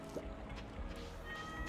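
A cat in Stardew Valley gives a short, soft meow early on, faint and brief under a low, steady bed of game ambience and gentle watery sounds.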